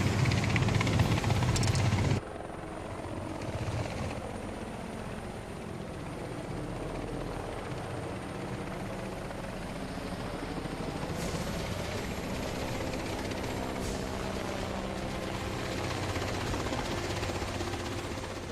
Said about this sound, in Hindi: हेलीकॉप्टर में कौन आने लगा पार्टी में?